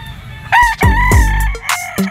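A rooster crows loudly and close by at a Filipino poultry market where stag and bull stag gamecocks are sold, one full rising-and-falling call with a shorter second call after, no talk over it.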